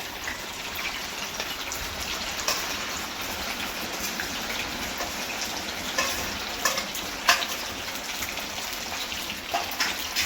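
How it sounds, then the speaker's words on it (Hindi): Gatte, gram flour dumplings, frying in hot oil, giving a steady, dense crackling sizzle with occasional louder pops, close and continuous throughout. "यहाँ पर गट्टे को फ्राई करेंगे, इसलिए तेल भी गर्म हो गया है"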